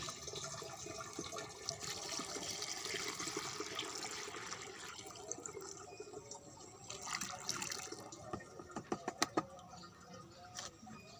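Trichoderma solution is poured into water for soaking chili seedlings, producing a steady splashing, gurgling flow that tapers into scattered drips and small splashes.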